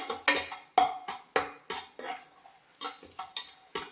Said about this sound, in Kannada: ಗೋಡಂಬಿನ ಸ್ವಲ್ಪ ಕೆಂಪಾಗಂಗೆ ಫ್ರೈ ಮಾಡ್ಕೊಳ್ಳಿ ಆಯಿಲಲ್ಲಿ